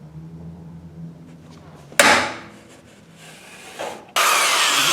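A power drill with a sharp bit bites into wood in two bursts, the second grinding steadily until the end, with a quieter scraping lull between them.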